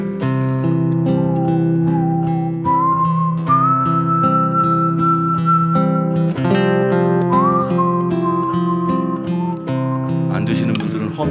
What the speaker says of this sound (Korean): 간주는 휘파람으로 같이 해볼까요?